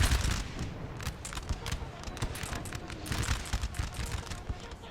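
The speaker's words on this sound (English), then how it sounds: "Cannon shots lining up right here." Cannon and musket fire on a Napoleon: Total War battlefield, a dense, continuous fusillade of overlapping booms and cracks with loud bursts scattered throughout.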